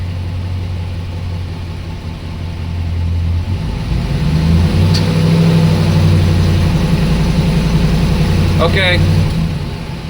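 A 2012 Ford van with an intermittent no-start fault runs at idle, then its engine revs up and holds a higher, louder drone before easing back, close by, with a brief spoken word over it.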